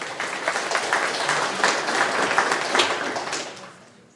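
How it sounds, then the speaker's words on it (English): A live audience breaks into steady applause at a hypnosis show, dense clapping holding for about three and a half seconds before tapering off, no talk over it. "Big round of applause."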